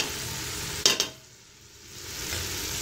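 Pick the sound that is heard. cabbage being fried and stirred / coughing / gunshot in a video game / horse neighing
cabbage being fried and stirred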